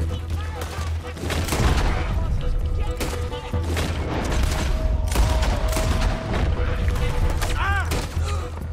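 Gunshots and rapid fire ring out through a chaotic shootout in Red Dead Redemption 2, with repeated sharp cracks under a steady low rumble and game voices talking throughout.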